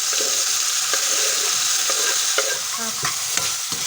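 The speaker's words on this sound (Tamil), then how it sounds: "இப்போ இந்த தக்காளியை வந்து இதில் போட்டு நல்லா இது வந்து நல்லா கலந்துட்டு" Chopped tomatoes sizzle and fry in a hot pan while a spoon stirs them, producing a steady hissing crackle punctuated by repeated scraping strokes, close and clear with no voices.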